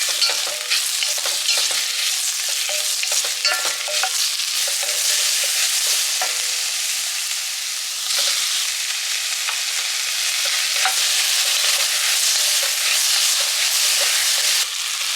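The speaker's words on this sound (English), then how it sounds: "I'm going to start by sauteing the onion, and then I'll add the garlic and then the tomato last." Onion sautés in hot oil in a Dutch oven with a loud, steady sizzle and crackle that carries through the whole stretch, broken by occasional stirring scrapes.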